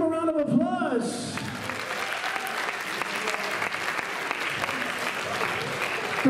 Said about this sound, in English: In each of your categories, let's give them a round of applause.